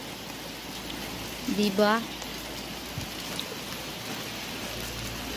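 Steady rain falls in front of a house on a rainy afternoon, a constant even hiss throughout, with a short burst of speech near the start.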